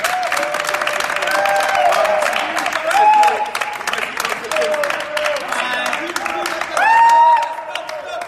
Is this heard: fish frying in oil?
no